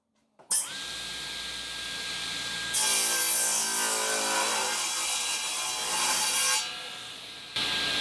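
A handsaw cuts a notch into wood for a wheeled wall-mounted panel saw press, with a steady continuous rasping stroke that grows louder and brighter midway, close and alone.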